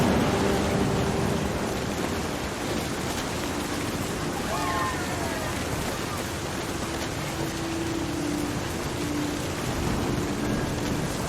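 A thunderstorm in the video game What Remains of Edith Finch: steady heavy rain and a constant low thunder rumble wash through the whole stretch without letup, with no voices.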